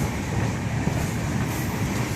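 Steady, loud rumble of a moving train near Kannauj station, India, at dawn, a dense continuous roar with no distinct clacks, heard up close without any voices.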